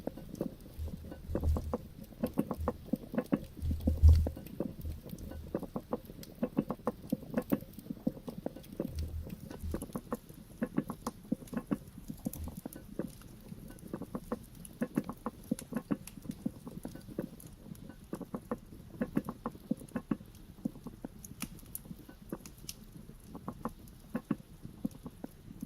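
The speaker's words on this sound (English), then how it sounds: "hearing the rain" Rain pattering steadily outside a tree house, with dense irregular drips and taps at close range and faint low thumps underneath, no voices.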